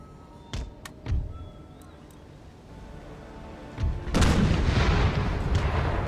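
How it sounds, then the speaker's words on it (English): Artillery guns fire at cavalry in Empire: Total War, with a couple of scattered distant booms followed by a heavier, rumbling volley that lingers as a sustained roar. "My guns engage their cavalry as their best targets."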